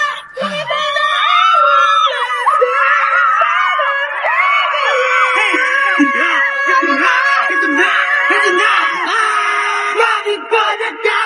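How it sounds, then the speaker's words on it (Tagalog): Concert crowd of fans at a show in Davao screaming continuously, loud, dense high-pitched shrieks and yells that surge and overlap for the whole stretch. "Talaga namang mabibingin kayo sa sigawan"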